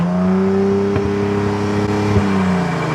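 A Mercedes SL400 R231 with a V6 engine drives along, its steady engine hum and whir holding close and loud throughout with a couple of brief knocks, no voices present.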